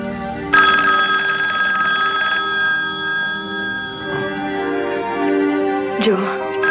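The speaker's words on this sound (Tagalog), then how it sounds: "telepono" A telephone rings with a sustained electronic tone, accompanied by background voices and a brief clatter near the end.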